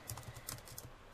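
Quick, light keystrokes on a computer keyboard, a short burst of soft clicks typed at a brisk uneven pace, quiet and close with no speech.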